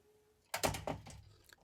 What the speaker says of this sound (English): Close that door. Close the door.